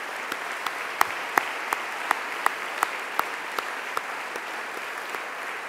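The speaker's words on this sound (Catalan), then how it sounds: "M'agradaria que tinguéssim un aplaudiment en record d'aquesta companya." Sparse, soft applause at a closing ceremony of an excellence awards event, a few distinct hand claps standing out at a steady pace over a quieter wash of clapping, heard from some distance.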